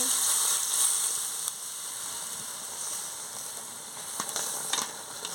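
Water poured over frying vegetables for a spinach, taro and prawn ghonto hisses steadily in the pan, a continuous close sizzle with a few faint clicks and no talking.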